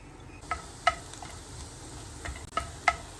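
Finely chopped garlic, four or five cloves, frying in melted butter in a pan, a faint soft sizzle under sharp stirring clicks and scrapes that land at irregular moments.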